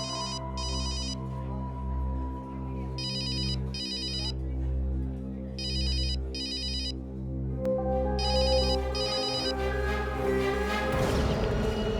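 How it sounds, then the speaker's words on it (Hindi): A telephone ringtone chimes in repeated paired bursts, ringing on with no answer; a brief crash and rising noise come in near the end. "फोन करने पर फोन नहीं उठा रहा है"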